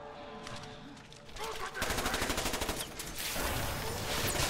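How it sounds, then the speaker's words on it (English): Gunfire in the video game Resident Evil 6 rattles in loud rapid bursts, machine-gun-like, mixed with in-game voices. "the gunshots are too loud"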